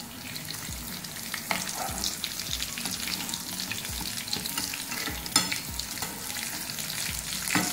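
Vegetable kebabs frying in oil in a pan, a steady busy sizzle and crackle with occasional louder pops as they brown.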